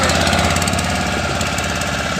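Motor boat engine running with a rough, rapid knocking throb, loud and close, holding a steady rhythm with no break.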